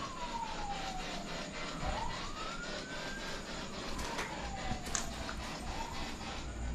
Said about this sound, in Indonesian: Gue dengar suara sirine polisi lagi.